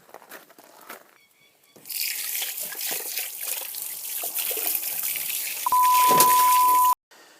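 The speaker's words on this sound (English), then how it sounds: "Now, I'm going to wash my hands." Water runs steadily from a tap as hands are washed after changing a spare wheel on a Lexus, a broad continuous trickle that starts abruptly and holds fairly loud and close, with a brief steady tone near the end.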